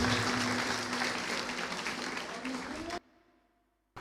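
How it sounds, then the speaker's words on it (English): An audience at a student orientation and sports meet claps loudly as Sir Augustine comes up to the dais: dense clapping mixed with crowd noise and a voice, cutting off abruptly to near silence for the final second. "Let's give a loud clap to Sir Augustine as he comes up to the dais"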